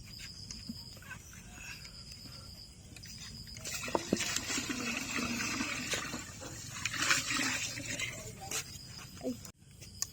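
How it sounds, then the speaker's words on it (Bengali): Water poured into a pot of soybean-oil-coated khichuri ingredients set on the stove makes a steady rushing splash for about six seconds. It swells in the middle, with faint bird calls in the background. "আমাদের পানি দেওয়া শেষ হয়ে গেছে"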